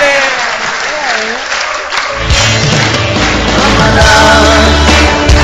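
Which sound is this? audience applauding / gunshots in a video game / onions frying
audience applauding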